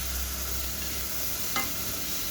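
Green beans sauté in a hot pan with a steady, soft sizzle and a single brief scrape of stirring partway through, close and alone.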